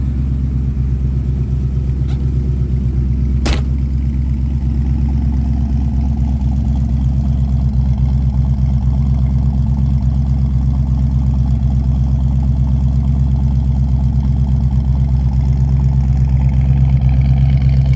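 1969 Ford Mustang Mach 1 with dual exhaust idling steadily, a deep, loud, even rumble with a faint lope that holds for the whole stretch, a single sharp click near the start.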